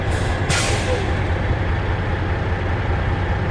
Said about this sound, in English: So I'm just going to push on my service brake.